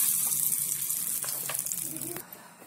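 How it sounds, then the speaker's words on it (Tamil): Mustard seeds and curry leaves crackle and sizzle in hot oil for a tempering, a steady close hiss with a few sharp pops, no talking over it. "கடுகு சேர்த்து தாளிச்சுக்க போகிறோம் ஃப்ரெண்ட்ஸ்"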